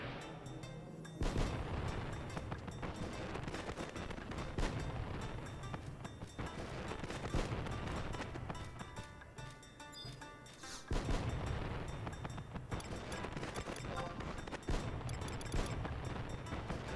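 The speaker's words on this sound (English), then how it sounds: "Been a while since we heard these fireworks." Fireworks in the Final Fantasy XI video game burst in a dense, continuous barrage of booming crackles and thuds, loud and layered, with brief lulls, no voices.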